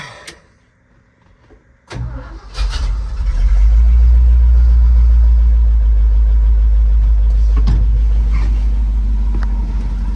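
After a quiet moment with faint rustling, an old retriever truck engine cranks and catches, then settles into a loud, steady rumbling idle.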